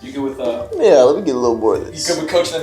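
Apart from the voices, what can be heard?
None of the usual background noises is heard.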